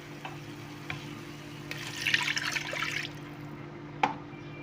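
Water poured from a cup into a pot of rice for red rice, a short splashing burst in the middle between a few faint clinks and a sharp knock near the end.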